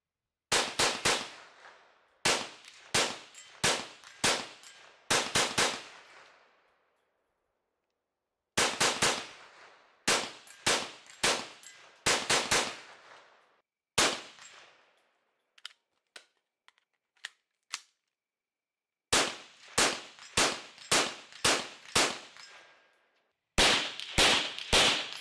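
A KelTec CMR-30 rifle fires in quick strings of sharp, loud shots, bursts of four to six spaced by pauses, with a few faint clicks between volleys.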